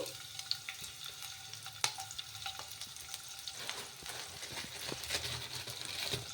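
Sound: cumin and green chillies frying in oil

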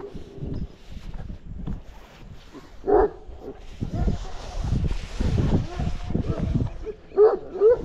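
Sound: livestock guardian dog barking and whimpering

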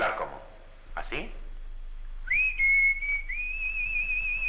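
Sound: human whistling

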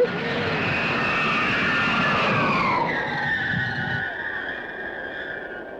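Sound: jet aircraft afterburner roar

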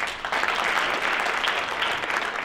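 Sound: round of applause at a general meeting

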